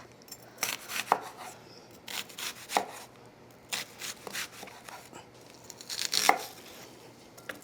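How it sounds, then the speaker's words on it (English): A knife chops onion rings on a cutting board in quick irregular bursts of crisp taps, with some soft rubbing and scraping between strokes, close up and with no talking. "And just cut across the rings."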